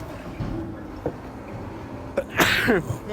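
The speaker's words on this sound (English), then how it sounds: "I don't know why I'm sneezing." A single sharp sneeze bursts out near the end, preceded by a short intake and some faint low background noise.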